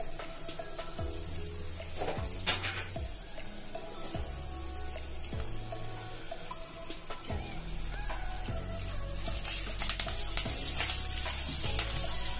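Steady crackling sizzle of cumin, turmeric, dried red chillies and curry leaves tempering in hot oil, close and continuous, with occasional sharper pops and no voices.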